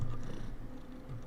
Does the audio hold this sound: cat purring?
yes